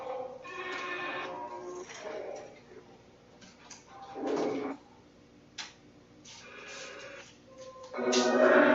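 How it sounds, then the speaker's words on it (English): A house cat meows and cries in several separate calls, some drawn out, heard fairly close in a quiet room with pauses between them. "What kitty was that, Spooky?"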